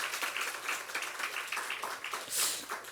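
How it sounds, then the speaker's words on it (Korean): Church congregation applauding during a service, a moderate patter of many hands clapping in loose pulses, with a brief brighter swell near the end. "박수로 한번 쳐주셔야 돼요"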